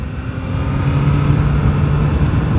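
A BMW S1000R motorcycle rides in third gear, its engine a steady low drone with a faint sustained tone, loud and continuous over rushing wind noise.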